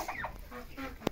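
Hens cluck softly in a backyard coop with a rooster among them, a few short nasal calls close by, and a faint sharp squawk near the end, over quiet background noise.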